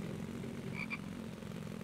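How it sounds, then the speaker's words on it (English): Frogs croak in the Infected video game, a steady low chorus of throaty calls from the wildlife around a rural road, with a couple of brighter chirps standing out briefly. "See, there's a lot of frogs around."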